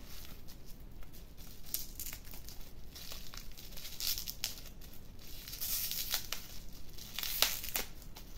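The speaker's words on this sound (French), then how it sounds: "je vais juste enlever le petit papier autour" Close, faint crinkling and tearing of thin paper wrapping removed from a bottle, irregular rustles and crackles continuing throughout with no talking.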